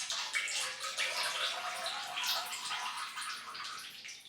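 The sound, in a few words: oil and water draining from a shock absorber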